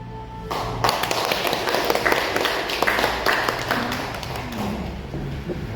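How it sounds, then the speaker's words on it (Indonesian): Audience applause at an Indonesian event following a poetry reading, a steady wash of clapping hands that swells and holds for several seconds at moderate loudness, with no speech. "sekali lagi tepuk tangan"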